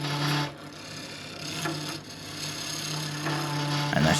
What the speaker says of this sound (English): I will just give this a little quick touch up. That's my P&N skew.